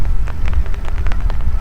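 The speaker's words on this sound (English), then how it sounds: "It's raining at the moment here at WCL. It's a slight drizzle." Light drizzle falling at an outdoor cricket ground, a steady soft patter of raindrops over a low rumbling background, with no voices.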